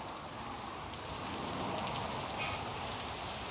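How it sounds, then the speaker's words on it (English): Cicadas chirping in a steady, loud, continuous high-pitched drone that fills the whole clip with no other sounds standing out. "the cicadas is the sound of summer"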